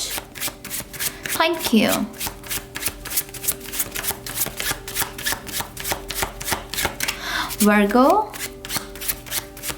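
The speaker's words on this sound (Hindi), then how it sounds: "तो चलिए शफल कर लेते हैं हम कन्या राशि के लिए" A deck of cards is shuffled for a Virgo reading. Rapid, crisp riffling clicks run continuously, close up, while a voice speaks briefly at the start and again near the end.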